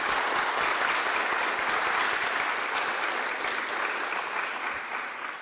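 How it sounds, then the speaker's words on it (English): A crowd at a ministerial funding announcement gives the ladies a full round of applause, dense steady clapping that holds for several seconds and tapers slightly at the end. "I will ask again for another round of applause for the ladies"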